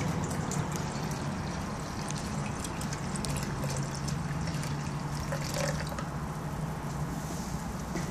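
Water runs steadily into a water-driven timer in an intro engineering lab, a continuous close pouring and trickling wash throughout with no talk over it.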